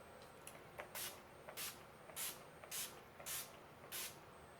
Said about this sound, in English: Urban Decay Chill All Nighter Setting Spray.